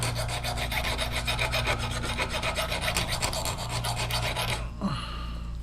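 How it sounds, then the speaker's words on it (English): A file rasps in quick, even back-and-forth strokes across the edge of a traditional steel broadhead, putting a bevel on it close up for about five seconds before the strokes stop. "I put a slight bevel on the non-bevel side."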